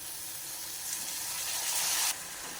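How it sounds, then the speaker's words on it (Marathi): Homemade masala frying in oil makes a soft, steady hiss and sizzle that swells slightly toward the end before easing off, faint and close, with no voices. "तर आपला घरचा मसाला चांगला तेलामध्ये फ्राय करून घ्यायचा."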